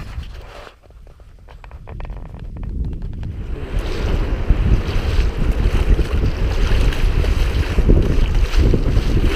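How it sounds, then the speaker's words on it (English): Big waves churn on a river in Maine while strong wind buffets the microphone, a loud continuous roar of rushing water and gusts that builds after a quieter start. "Trying not to get wet. Some big waves."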